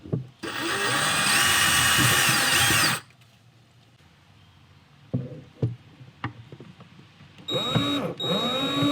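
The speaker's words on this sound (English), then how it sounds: "I'm just going to drill myself a little pilot hole." A power drill whirs loudly for a few seconds drilling a pilot hole for a screw, then stops; clicks and handling noises follow before the drill briefly spins up again.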